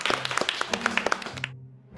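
A crowd gives a first-time stage performer, Divya, a welcome of sharp, uneven handclaps. The claps are close and scattered, last about a second and a half, and then stop suddenly.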